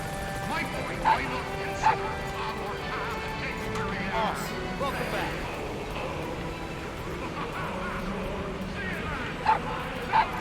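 A puppy in the Metal Gear Solid V video game gives a few short, sharp barks and yips spread across the scene, with whimpers, set over a steady game soundtrack and ambient noise, while a voice talks.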